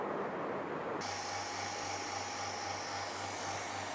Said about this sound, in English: this is a vacuum pump motor which is creating the suction pressure